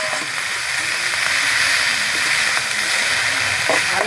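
Kharkol leaves and greens frying in a pan with a steady, bright sizzle and hiss that runs evenly throughout, close and fairly loud, with no voices.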